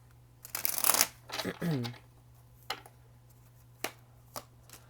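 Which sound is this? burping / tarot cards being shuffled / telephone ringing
tarot cards being shuffled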